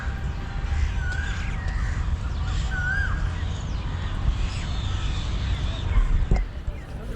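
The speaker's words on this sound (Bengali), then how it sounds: "এই সাইডটা মানুষের পরিমাণ কম বলে পাখির গুঞ্জন শোনা যাচ্ছে নিশ্চয়ই শুনতে পাচ্ছেন" Crows caw intermittently in a park near India Gate in Delhi, several calls rising over a constant outdoor hum of crowd and traffic.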